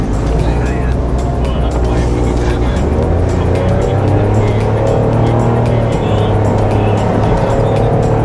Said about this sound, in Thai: เรามาลองขับกัน ว่ารถคันนี้ อัตราการเร่งเป็นยังไง